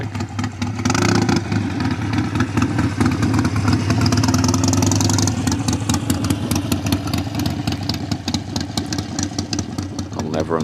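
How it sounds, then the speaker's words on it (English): Loud motorbike engine revving near a waterfront shipping lane: a steady, rumbling throb that swells and holds, with a person talking over it. "I'll never understand the appeal of a super loud motorbike"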